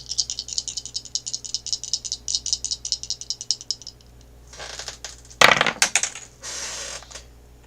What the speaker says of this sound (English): So I'm gonna do the astrology dice here.